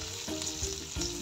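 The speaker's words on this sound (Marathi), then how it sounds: "2 ते 3 मिनिटांचा छान तेलामध्ये व्यवस्थित या शिमला मिरची फ्राय करून घ्यायचं आहे" Stuffed capsicum frying in oil in a pan, a steady close sizzle with soft crackles and a few stirring bumps, no voices.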